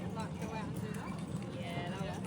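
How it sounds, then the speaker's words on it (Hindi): A horse pulls a heritage tram in Adelaide, its hooves clip-clopping in a steady rhythm under continuous talk and background chatter. "घोड़े के पीछे ट्राम है"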